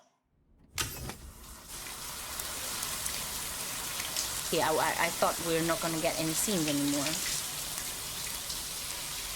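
Steady broadband hiss of a shower running in the video game Death Stranding 2, continuous and fairly loud throughout, with someone talking over it and brief tonal game sounds partway through.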